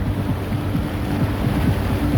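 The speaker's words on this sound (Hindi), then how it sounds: "देख सकते हैं दुबई की बारिश आप लोग" Rain falls in Dubai as a steady, dense hiss mixed with gusting wind and a low rumble, continuous and fairly loud with no voices.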